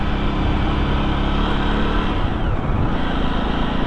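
A Jawa Perak bobber motorcycle being ridden, its engine thrumming steadily and loud against rushing wind noise, with a brief pitch shift partway through as the rider changes speed.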